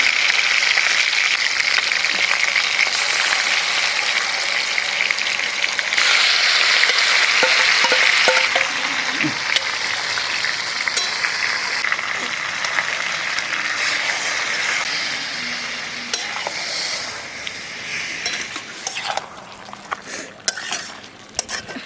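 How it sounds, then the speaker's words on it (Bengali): Whole garam masala spices fry in oil for a tempering during a rooftop picnic, a loud continuous sizzling crackle close by with scattered clinks of a pan and utensils. "আর এই যে গোটা গরম মশলা ফোড়ন"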